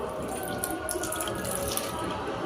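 Half a kilo of yogurt pours into a biryani pot with a steady wet, splashing rush, close and continuous throughout.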